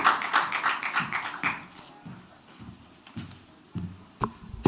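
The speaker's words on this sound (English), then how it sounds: "Let's give her a warm round of applause as she makes her speech." Light applause rises from a conference audience after a speaker is introduced. It starts fairly close and dense, then thins to scattered individual claps that fade out.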